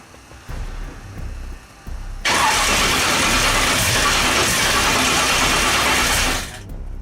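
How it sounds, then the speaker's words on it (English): A truck with a new 18-degree small-block Chevy engine cranks briefly on its first start, then roars loudly and runs steadily at high revs for several seconds before cutting off abruptly. "As Billy tried to start the truck for the first time"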